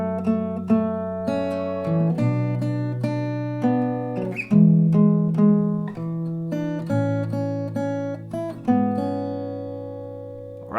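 An acoustic guitar plucks the main part of a song up close, with clear single notes and bass strings ringing in a steady, unhurried pattern and no voices.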